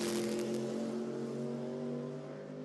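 A vintage Delage 1500 S8 race car runs past at a circuit race, its engine a strong, tonal whine that stays steady and then fades slightly as it moves away.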